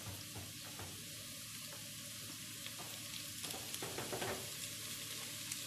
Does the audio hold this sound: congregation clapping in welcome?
no